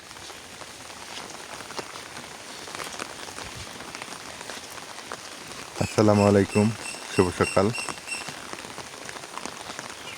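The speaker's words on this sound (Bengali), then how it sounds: "আল্লাহর অশেষ রহমতের বৃষ্টি হয়ে গেছে।" Rain falls steadily over a village morning after a night-long downpour, a soft constant patter throughout, with a voice briefly greeting someone midway.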